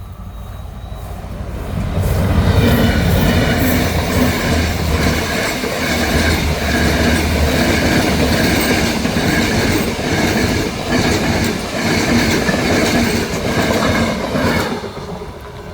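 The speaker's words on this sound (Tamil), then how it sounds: "இதுதான் பாருங்கள் மக்களே ரெயின் வருது பாருங்கள்" A train rumbles past at close range for most of the clip, a loud, steady roar with rhythmic clattering of wheels on the rails.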